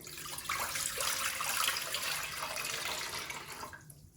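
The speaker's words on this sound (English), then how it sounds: "So to the pot, you're going to add 5 cups of water," Water splashes steadily into a cooking pot while making homemade elderberry syrup, a continuous close pouring stream that swells and then tapers off near the end, with no speech.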